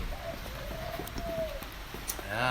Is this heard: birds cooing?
yes